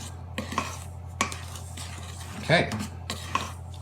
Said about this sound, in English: we're gonna mix all of our dry ingredients together